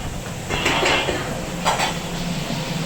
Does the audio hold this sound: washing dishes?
yes